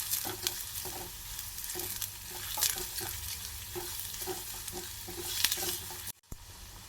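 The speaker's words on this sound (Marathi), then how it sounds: "कांदा छान असा परतून घ्यायचा आहे" Chopped onion sautéing in a pan with cumin, a steady sizzle broken by regular scraping stirs of a spoon, close and fairly loud, with no talking.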